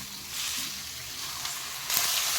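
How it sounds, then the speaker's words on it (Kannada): Tomatoes, capsicum and curry leaves fry in hot oil for a ground-masala tomato bath, giving a steady close sizzle and crackle that swells louder near the end, with no voices. "ಇದು ಈಗ ಎರಡನ್ನು ಸೇರಿ ಚೆನ್ನಾಗಿ ಎಣ್ಣೆ ಒಳಗಡೆ ಫ್ರೈ ಆಗಲಿ"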